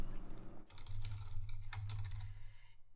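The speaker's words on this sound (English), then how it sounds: "then you can type in your note." Someone types a note on a computer keyboard, producing a quick run of close, light key clicks over a low steady hum, with no talking.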